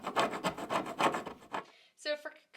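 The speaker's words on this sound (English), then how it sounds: "So here's where the paint scraper comes in handy" A paint scraper drags across wooden stairs in quick repeated rasping strokes, scraping off paint buildup, close and fairly loud, followed by a couple of brief sharper scrapes.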